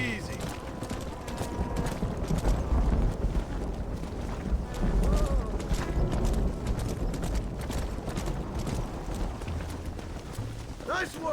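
Hooves of a horse herd being driven into a pen in the Western video game Red Dead Redemption, a continuous clip-clop patter under wind noise and spoken dialogue throughout.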